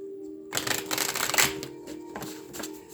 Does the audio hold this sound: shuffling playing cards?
yes